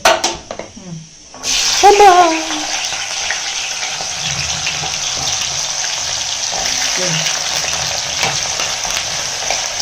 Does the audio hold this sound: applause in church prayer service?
no